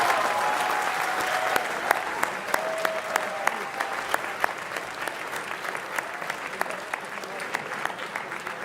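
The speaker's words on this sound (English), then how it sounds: "It's very nice to see a standing ovation and a huge round of applause." Guests at the 2018 Ethnic Business Awards gala dinner give a standing ovation, a steady wash of applause with sharp individual claps cutting through and a voice faintly beneath.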